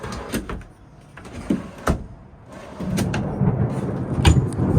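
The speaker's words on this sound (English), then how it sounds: "The little drawers to the left side of the stove slide out sideways." Small kitchen drawers in a 2025 Lance 975 truck camper slide out sideways, giving a few knocks and scraping rolls over a rumbling background, fairly close and without talk.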